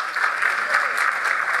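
Audience applause at an institute gathering honoring its outgoing chairman, a steady dense wash of many hands clapping at close range, alone without talk.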